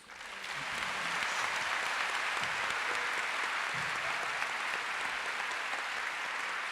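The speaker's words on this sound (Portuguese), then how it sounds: "palmas para você" Audience applause closing an interreligious dialogue panel at a Spiritist congress in Paraíba, a sustained, even roar of clapping that swells in within the first second and holds steady, slightly distant, with no speech.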